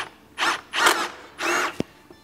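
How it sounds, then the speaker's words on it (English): Power drill boring into interior trim of a Porsche Cayenne Turbo S: three short whirring bursts with gaps between, then a sharp click, close and fairly loud. "I'm gonna drill this into this tooth right here"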